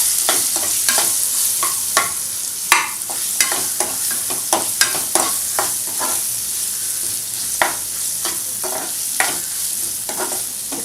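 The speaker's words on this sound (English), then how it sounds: "Stir the onions nicely till they turn transparent" Onions fry with curry leaves and mustard seeds under a steady bright sizzle, punctuated by a regular series of sharp spatula scrapes and taps as the pan is stirred, close and fairly loud.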